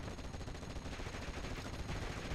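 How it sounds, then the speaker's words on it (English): Artillery and gunfire rattle in a Steel Division 44 battle, a faint, continuous, crackling barrage of overlapping shots with no distinct single boom and no voices. "25-pounder taking out artillery"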